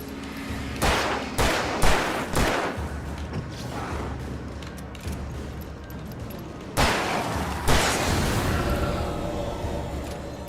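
Gunfire in Alan Wake Remastered, a handful of loud shots spaced out over a dense, noisy game background, with a couple of heavier blasts later on.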